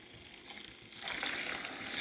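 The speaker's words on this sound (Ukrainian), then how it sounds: "Я зараз нею все гарненько розмішаю" Fiber supplement being stirred into water, a soft swishing that grows into a louder, steady hissing churn halfway through, close and continuous with no talking.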